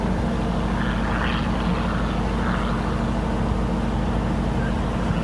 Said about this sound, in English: that aeroplane's climbing at about 60 miles an hour now. It's literally hanging on the propeller.